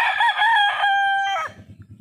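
One fighting rooster on a rural farm lets out a single loud, close crow lasting over a second, followed by soft low clucking.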